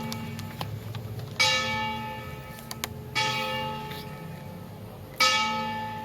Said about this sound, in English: Bells, bells.